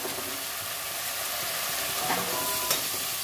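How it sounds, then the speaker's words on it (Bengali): Ground spices (cumin, garam masala, chili, coriander, turmeric) sizzle and hiss steadily in a pan for chana dal dhoka, a constant close frying crackle with faint stirring scrapes and no speech. "ভালো মতো ভেজে নেবো সামান্য জল দিয়ে, ভালো করে কষে নেব।"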